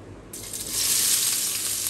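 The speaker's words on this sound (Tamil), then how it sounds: "வெங்காயம் போட்டு வதக்கணுமா?" Onions frying in cold-pressed groundnut oil for mutton liver pepper fry, a steady sizzle that starts abruptly and swells louder, continuous and close with no talking.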